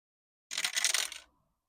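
Two small four-sided dice rattle and clatter briefly across a hard surface, a quick cluster of clicks lasting under a second, close and alone.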